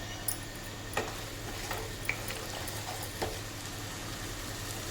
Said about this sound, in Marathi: त्याला व्यवस्थित परतून घ्यायची गॅस थोडा मोठा ठेवायचा आपण